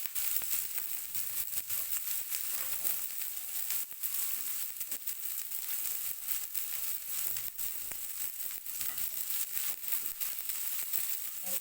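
Capsicum dropped into a hot pan for vegetable spaghetti, sizzling and frying in a steady, loud, crackling hiss that continues without a break, with no voices.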